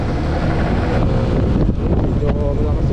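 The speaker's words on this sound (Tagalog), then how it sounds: "Medyo malakas yung hangin dito." Loud, constant wind buffets the microphone with a heavy low roar on a road near Nanzhuang Old Street, Miaoli, Taiwan, while a voice speaks faintly underneath.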